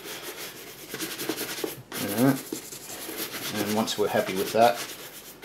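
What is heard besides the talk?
cleaning dust off R.M. Williams boot welt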